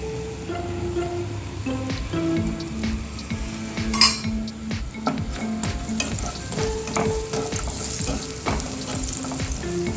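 Raisins and cashews roasting in a pan of hot fat for broken wheat payasam give a steady close sizzle, broken by repeated scrapes and stirs of a spoon against the metal pan, with no talking.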